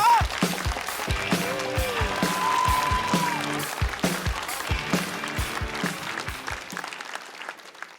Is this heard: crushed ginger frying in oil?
no